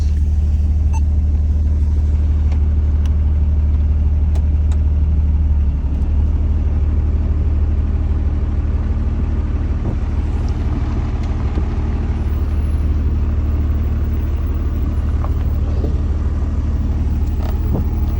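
Steady, loud engine rumble of a 2006 Dodge Ram 3500 Cummins diesel pickup with an Allison transmission, driving continuously in four-wheel drive, a low droning hum with road noise and no talking.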